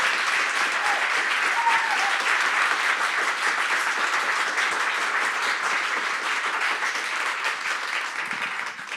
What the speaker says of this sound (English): Can we give a round of applause to these incredible storytellers?